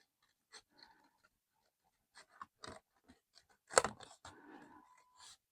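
Scissors cutting out collage paper for a postcard-sized bookmark, scattered short snips and rustles near the ear in near silence.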